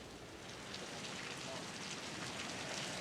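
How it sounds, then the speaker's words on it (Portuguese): A heavy rainstorm pours down outside a barracks during an evening news report, a dense, constant hiss of rain on surfaces with no break and no clear voice over it. "Realmente chovendo muito, caindo um temporal aqui em frente ao quartel, onde Anderson Torres está preso desde hoje"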